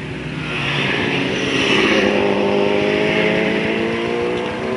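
A motorcycle engine starting and revving, a loud, close mechanical drone that swells as the revs climb, holds high, then eases slightly at the end, with no talk over it.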